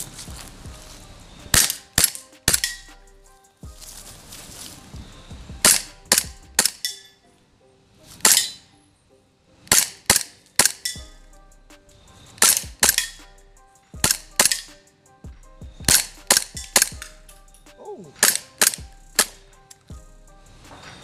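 An airsoft Glock 19X pistol fired outdoors in short bursts of sharp, snappy cracks, two or three at a time with pauses between, loud and close with faint rustling in the gaps.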